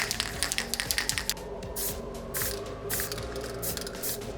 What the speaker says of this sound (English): this is the most foul smelling spray primer you can buy